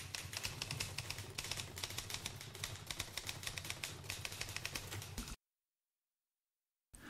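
Rapid, steady clacking of electric typewriter keys up close, a dense run of strikes that stops abruptly into silence, then resumes briefly.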